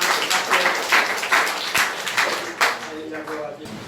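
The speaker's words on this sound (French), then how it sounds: "Applaudis le Seigneur, ma famille." A church congregation claps in scattered, rhythmic applause during a French-language sermon, with a voice speaking loudly over the clapping.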